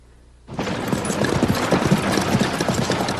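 A galloping horse's hooves clatter rapidly on a highway, starting suddenly and continuing loud and dense as a steady rolling drumming with no talk.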